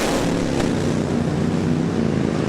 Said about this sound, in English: a big 186 cubic inch PRPV twin shaking the earth on the burnout